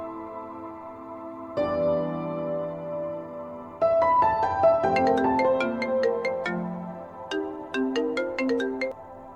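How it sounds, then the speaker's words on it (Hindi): A melodic phone ringtone plays clearly, a chiming tune that builds into a brighter, busier pattern of tones, with no talking. "इतनी रात को फोन कॉल?"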